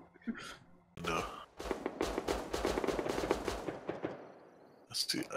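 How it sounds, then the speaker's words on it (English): Rapid automatic gunfire rattles outside in the Rust survival game, a long continuous burst of dozens of shots that fades out, with faint breathy sighs before and after. "I hear a lot of gunfire."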